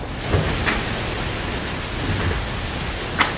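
Rain falls on a sailing boat at sea in the Atlantic, a dense, steady hiss of drops with a low rumble beneath and a couple of brief knocks, and no voices.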